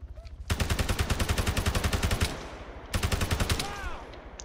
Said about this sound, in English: I'm gonna third person shoot with an auto rifleman